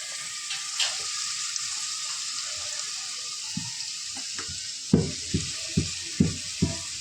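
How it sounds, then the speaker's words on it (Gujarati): Steady broadband sizzle of vegetables sautéing in a pan over a low gas flame, continuous and fairly close, with a few soft clinks of a utensil near the end. "ધીમા ગેસે આપણને સાતડવા દઈએ ને તો જે પાણી હોય ને સરસ થઈ જાય."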